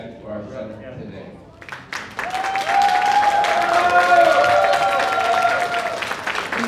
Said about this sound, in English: So we should give a great, great round of applause to the Leung family for the foresight of donating the land for our center today.